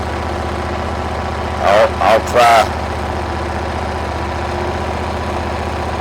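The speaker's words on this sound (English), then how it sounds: "I'm just going to drive around. I'm not going to engage the blades." A riding lawn mower idles at its lowest engine speed with the blades disengaged, a steady low drone up close; someone speaks briefly over it.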